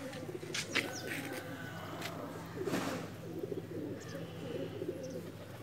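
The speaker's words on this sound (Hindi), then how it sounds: "अभी मैं आपको एक टेडी कबूतर का शौक़ करवा रहा हूँ।" A teddy pigeon coos softly in low, rolling bursts that repeat across the stretch, with faint chirps and a brief flutter in the background.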